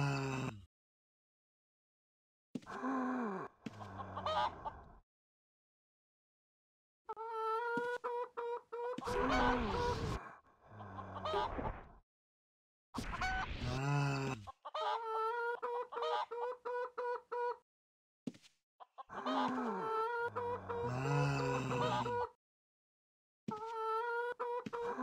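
A chicken clucks in a video game, with bursts of loud, harmonic squawking calls in several separate bouts spread across a long stretch, separated by silent gaps and heard alone without talk.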